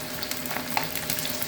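Sausage fries in a pan close up, giving a continuous sizzling hiss dotted with light spitting pops and no voices.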